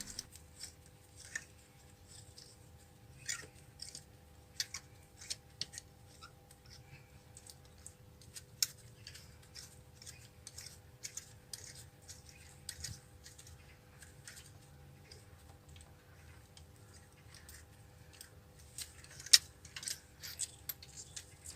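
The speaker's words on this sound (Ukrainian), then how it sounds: "Тепер беру другий ключик, щоб ним витягнути свічку." A socket wrench with a rubber insert works a spark plug out of a Skoda Octavia A5 engine, giving faint, scattered light metallic clicks and ratcheting ticks over about twenty seconds, with no speech.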